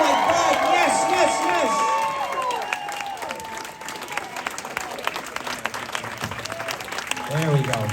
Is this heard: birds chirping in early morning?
no